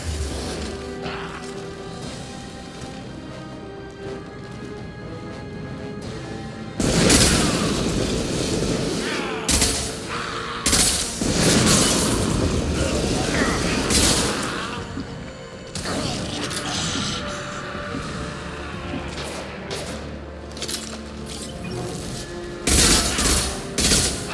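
Battle in the Mass Effect 2 video game: dense, continuous rattling gunfire mixed with heavy booms and crashing explosions, loud and sustained throughout with no pause.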